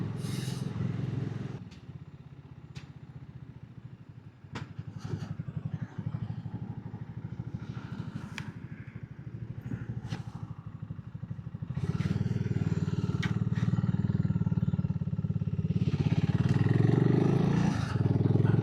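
A Smalley Cross BSA Goldstar 650 motorcycle trickles through an old town at walking speed, its engine a continuous low rumble that swells louder toward the end, with faint clatter and passing traffic around it.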